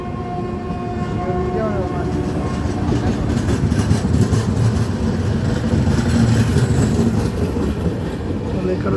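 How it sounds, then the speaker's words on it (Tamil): A green locomotive hauling the Jodhpur to Mannarkudi superfast express rolls past close by, a steady loud rumble of wagons and clatter that holds for the whole stretch, with voices speaking faintly beneath it. "பச்சை கலர் இன்ஜின் வருது."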